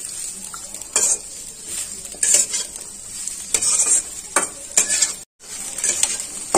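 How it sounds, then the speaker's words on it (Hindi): Onions frying golden brown in a pan over a medium gas flame, stirred continuously with a utensil scraping the pan in irregular strokes over a close, steady sizzle. "इसे हम गोल्डन ब्राउन होने तक इसे अच्छे से भून लेंगे। गैस का फ्लेम जो है वो हम मीडियम ही रखेंगे और इसे हम लगातार चलाते हुए गोल्डन ब्राउन कर लेते हैं।"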